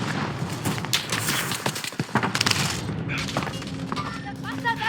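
Warzone gunfire crackles in scattered shots and short bursts, mixed with thumps and in-game voice callouts over a busy battlefield background.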